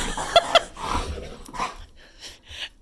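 A dog makes playful, scary-sounding growls, whimpers and yips during rough play with another dog, in short bursts with a couple of sharp yelps near the start, close and moderately loud, with no talk over it.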